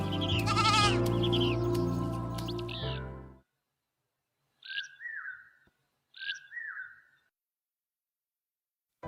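Two short, bleat-like animal calls from sheep being gathered to head home in an animated children's Bible story, coming after a loud stretch of music; each call is moderately loud and separated by silence.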